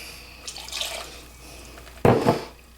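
Water splashes briefly into a container, a short pour near the end after a softer trickle earlier, over quiet background hum, as half a cup of water is added to sugar for homemade toffee candy.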